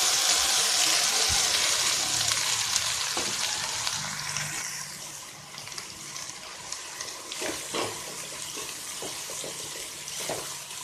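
Cabbage for poriyal fries in a pan with a dense, loud sizzle at first that slowly eases, broken by several sharp stirring scrapes and clatters toward the end.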